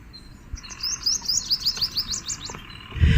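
Small birds at Vellode bird sanctuary chirp in a quick run of bright, rhythmic tweets over a low outdoor rumble, fairly close and clear, ending with a brief thump.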